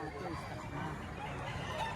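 At a Tuesday poultry market in Padre Garcia, Batangas, chickens and roosters cluck and crow in a busy, dense background while people talk over them.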